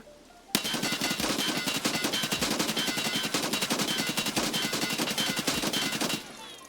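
Automatic rifle in Escape From Tarkov fires one long sustained burst of rapid shots in an even rhythm, loud and close, stopping abruptly at the end without talk.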